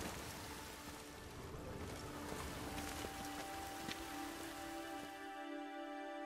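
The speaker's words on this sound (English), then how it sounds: "The rain will cleanse the city's streets of filth." Steady rain falls on city streets in The Witcher 3, a soft, even hiss of drops on surfaces with faint tonal hums beneath, continuous and fairly quiet throughout.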